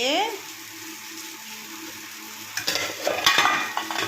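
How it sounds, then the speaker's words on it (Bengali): Egg curry masala with tomato, fried down and then loosened with a little water, stirs and sizzles in a pan; a steady low simmer gives way to louder utensil scraping and clatter in the second half. "ডিমের কারির প্রস্তুতি মশলাটা কষিয়ে একটু জল দিয়েছি টমেটোটা নরম হওয়ার জন্য"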